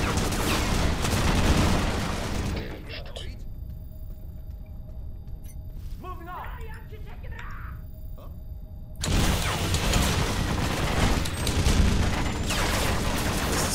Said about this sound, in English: Pick up your minigun, I need to kill this guy.